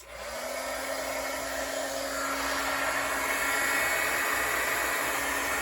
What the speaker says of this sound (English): We don't want you to go deaf here with the heat gun